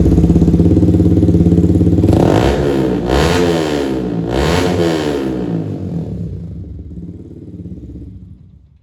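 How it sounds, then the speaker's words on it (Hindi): Motorcycle fitted with an aftermarket exhaust, already running loud at idle, then revved hard several times in quick succession before settling and fading as it winds down; close and loud, no talk. "मैं अपनी बाइक की आवाज़ और सुना देता हूँ आपको कि भाई कैसी लगी"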